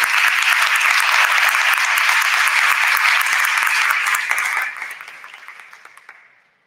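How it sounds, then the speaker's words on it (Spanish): Audience at a forum on building resilience to the climate crisis applauds the panelists, a loud, dense burst of clapping that holds steady for several seconds before thinning out and fading away. "yo quiero un primer aplauso para nuestros panelistas"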